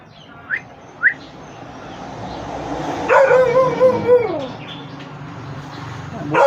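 Purebred Siberian Husky giving two sharp yips, then a wavering, howl-like whine for about a second, fairly close and loud against quiet background.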